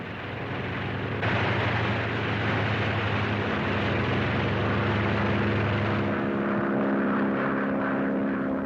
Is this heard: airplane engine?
yes